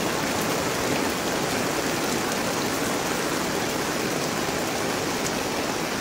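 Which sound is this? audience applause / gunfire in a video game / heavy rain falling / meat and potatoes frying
heavy rain falling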